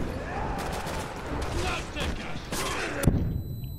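Gunfire rings out in Resident Evil 6 during a tense firefight, with a dense burst of shots over game noise and a sharp report near the end, close and moderately loud.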